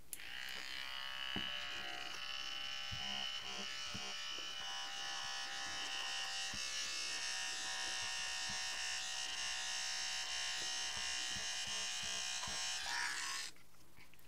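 A small battery-powered trimmer buzzes steadily and fairly faintly for about thirteen seconds as it cuts through quilt stitches, then cuts off, with no talking.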